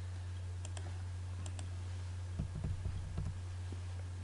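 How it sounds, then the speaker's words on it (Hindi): Keys on a computer keyboard are pressed for Ctrl+A and Delete, giving a few faint, quiet clicks and taps over a steady low electrical hum. "कंट्रोल ए और कीबोर्ड से डिलीट प्रेस करें"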